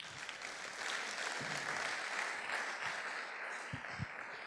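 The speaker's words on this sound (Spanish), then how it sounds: "Dale un aplauso al Señor" A church congregation applauds during a Spanish-language Bible study service, a fairly quiet, even spread of clapping from many people, somewhat distant, with a few low thumps near the end.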